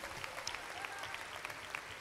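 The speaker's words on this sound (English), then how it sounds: "Can we give them a round of applause?" Church congregation applauding the grandparents at a baby dedication service, a soft, fairly distant patter of clapping that holds steady throughout.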